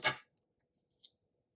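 A pair of scissors makes one sharp close snip trimming tape on a matchbox slider camera, followed by faint small snips in a quiet room.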